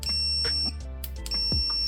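Short electronic beeps from a dog training collar pulse repeatedly, sharp and high-pitched, over a faint low hum.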